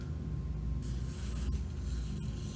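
White lithium grease sprayed from an aerosol can during an IKA RW20 Digital overhead stirrer repair, a steady close hiss running for about two seconds.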